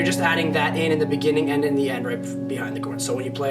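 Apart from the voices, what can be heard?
No distinct noise like a dog, phone or traffic.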